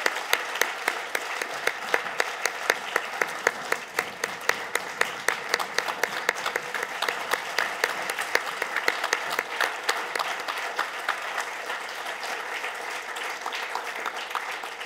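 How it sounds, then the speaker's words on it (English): Sustained applause from a large crowd at an induction ceremony, steady and dense throughout, with individual claps standing out now and then before slowly tapering. "Please join me in a round of applause one more time"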